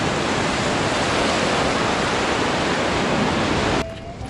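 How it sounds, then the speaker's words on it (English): Ocean waves crash over the rocks into an ocean pool on the coast between Bronte and Coogee beaches, a loud, continuous roaring wash of surf that drops away sharply just before the end. "the waves crash over the rocks right on top of you"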